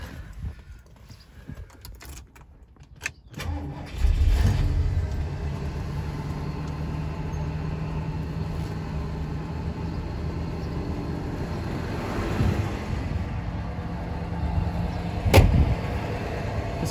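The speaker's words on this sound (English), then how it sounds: "I'll just start it up one last time so you can hear the motor run. It is cold, so it'll be on fast idle." A cold 1969 Lincoln Mark III V8 fires after a few seconds of cranking, then settles into a steady, loud fast idle. The low exhaust rumble stays constant and close, with no talking.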